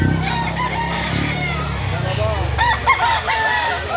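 A rooster crows amid a noisy outdoor crowd at a chicken market in Lipa City, Batangas, with other birds clucking and chattering voices in the background.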